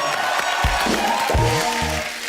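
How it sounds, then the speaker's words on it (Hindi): A studio audience at a Hindi comedy talk show breaks into loud applause, a steady patter of clapping with some cheering throughout, while music and brief vocal sounds play over it. "उसके लिए जोरदार ताली"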